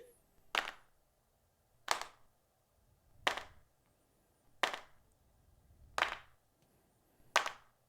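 Gang-clap sound effect of a group clapping hands in unison: six sharp, loud claps evenly spaced about a second and a half apart, with quiet gaps between them.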